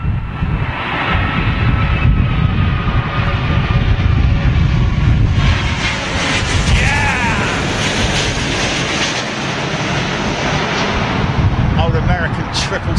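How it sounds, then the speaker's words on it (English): An American Airlines Boeing 777-200 arrives at Heathrow in strong wind, its engines a loud, broad roar that builds and holds through gusty wind noise, with excited voices talking over it. "Old American 777-200. Oh, wagging the tail there, mate."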